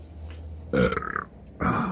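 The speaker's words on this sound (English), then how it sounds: "And burp on camera at the same time." Two loud, close burps from a man, a longer one with a rattling tail followed after a short pause by a second short one.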